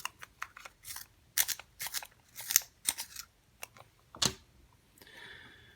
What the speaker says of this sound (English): sharpen that pencil